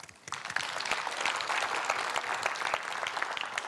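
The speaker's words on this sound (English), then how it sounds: "I think that we all deserve a round of applause" Conference attendees break into applause after a brief quiet moment, the clapping rising quickly into a full, even round from a room of many people.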